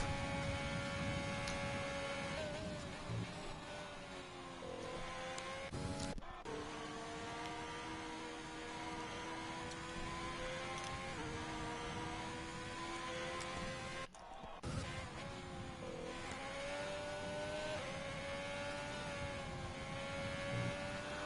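A Formula race car engine screams through a flying lap at the Japan GP in an F1 video game, its steady high whine rising and falling through gear changes, with two brief cuts in the sound, no talking.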